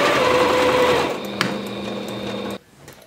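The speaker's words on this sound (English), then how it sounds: "I can just keep on sewing" A sewing machine stitches a minky baby blanket in a close, steady whirring run that cuts off abruptly near the end, leaving a quiet room with faint handling noises.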